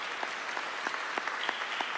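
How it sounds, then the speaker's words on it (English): Memorial gathering audience applauding caregivers, a dense, continuous crowd clapping heard from a distance, even and sustained with occasional louder individual claps. "nyone who was a caregiver for Steve Pieters, please stand up and give them a round of applause."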